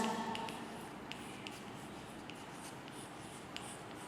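Pencil scratches on paper in a notebook in a quiet room, faint and continuous with small taps, no talking.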